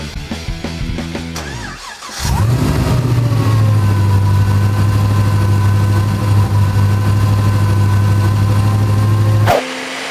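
A supercharged VZ engine with upgraded heads and cam cranks briefly, catches, and settles into a loud, steady, rumbling idle close by, then cuts off abruptly at the end.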